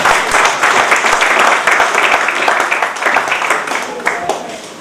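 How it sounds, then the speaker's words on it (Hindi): An audience at a Darbhanga campus event claps steadily, a dense, loud and continuous round of applause that fades slightly toward the end. "मैं चाहूंगा पहले तालियां बजाए तब जाने कौन आ रहे हैं।"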